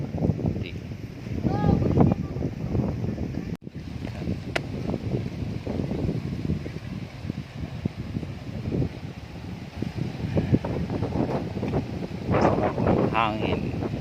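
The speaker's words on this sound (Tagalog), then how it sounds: "Hangin sa may tabing dagat." Gusty seashore wind buffets the microphone in a steady rumble, with a few faint voices and bird-like chirps in the background.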